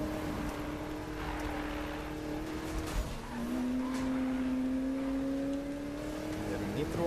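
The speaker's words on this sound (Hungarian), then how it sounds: "Csúszkál az autó" A car slides and skids in the 2016 Need for Speed racing game, its steady engine drone joined by long tire squeals that rise and bend in pitch, with voices talking over it.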